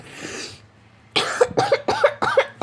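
A run of four sharp coughs in quick succession, close and fairly loud, following a stretch of muffled background noise.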